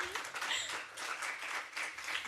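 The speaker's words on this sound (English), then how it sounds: "Let's give them another round of applause." Brief applause from a congregation in a hall after live music at a service, a soft, even patter of clapping.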